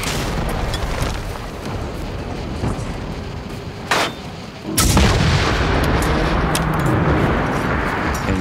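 Loud, continuous gunfire and booming blasts as players shoot at a robot in the video game Generation Zero, with a sharp burst near the middle and steady heavy firing throughout.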